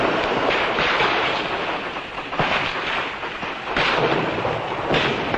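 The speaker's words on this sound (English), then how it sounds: "Their only answer to Nigerian firepower is a homemade rocket." Homemade Biafran rocket fire during the Nigeria-Biafra war: heavy, rumbling blasts and roaring bursts, with sharp surges around the middle and toward the end, over a constant loud, noisy background and no voices.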